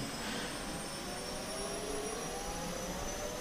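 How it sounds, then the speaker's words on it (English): A Bell UH-1 Huey's turbine spools up during engine start in the DCS World flight simulator, a loud, steady, rising jet whine with a broad roar beneath it, heard alone. "Rotor speed's climbing, gas producer's climbing."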